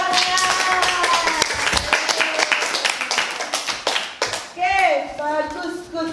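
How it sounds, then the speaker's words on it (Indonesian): An audience claps and applauds after a classroom sociodrama role-play, a brief burst of hand clapping mixed with a teacher talking over it and some voices in the room. "Oke, luar biasa, kasih tepuk tangan"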